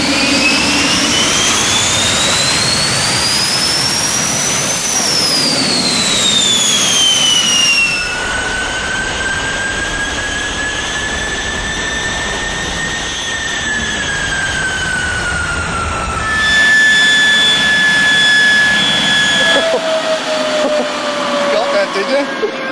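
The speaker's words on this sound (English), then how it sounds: "It is easy to say the Rolls-Royce Derwent is the ultimate backyard jet." Rolls-Royce Derwent jet engine, the kind once used in England to clear snow and ice from runways, running in a backyard: a loud, continuous roar with a high turbine whine that rises, falls and shifts pitch as the throttle changes, sustained throughout.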